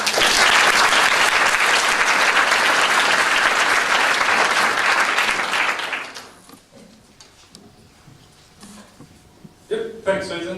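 Loud, sustained applause from an audience at a Perth Green Drinks sustainability talk fills the first six seconds, then tapers off into scattered claps, shuffling and a speaker beginning to talk.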